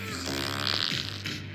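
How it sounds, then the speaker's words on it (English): A short, buzzy fart lasts about a second and a half. It is loud and close, with a rough tone that wobbles, and a voice speaks briefly around it. "Fart"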